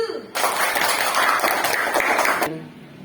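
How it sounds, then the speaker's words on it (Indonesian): Children in an Indonesian elementary classroom clap together during a Pancasila lesson, a loud, close burst of quick hand claps that starts abruptly and stops sharply after about two seconds. "Tepuk tangan untuk anak-anak yang maju."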